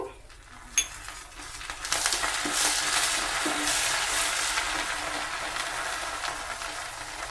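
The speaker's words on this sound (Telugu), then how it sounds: "ఇప్పుడు వెల్లుల్లి వేసుకుందాము. వెల్లుల్లి కొద్దిగా ఫ్రై అయ్యాక కరివేపాకు," Garlic frying in hot oil, a sharp clink, then the sizzle rising into a steady, fairly quiet crackle that holds to the end, with faint stirring against the pan.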